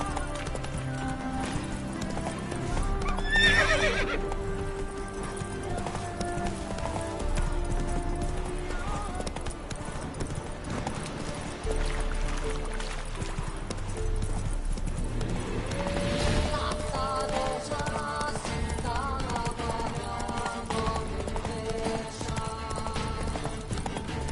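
A horse gallops in The Witcher 3 on PS5: a continuous run of rhythmic hoofbeats with occasional whinnies, layered over game music and ambience.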